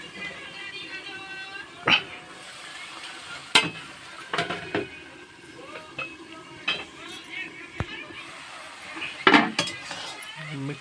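Bohar bhaji leaves being stirred in a cooking pan, with scattered spoon clinks and scrapes against the metal over a low sizzle, a few sharper knocks standing out.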